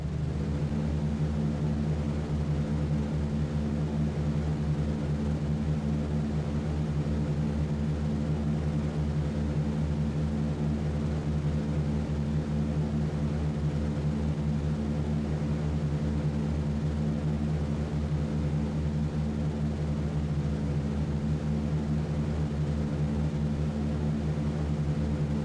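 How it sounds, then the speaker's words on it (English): Several radial engines of a B-17 bomber in a flight game drone steadily at a constant, loud low pitch, a dense layered hum that holds without change throughout. "we'll get these bombers fired up, up in the air and formed up"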